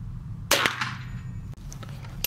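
A single sharp shot from a Chiappa Little Badger .22 LR rifle cracks close by and decays briefly, followed by a faint mechanical click over a low steady background hum.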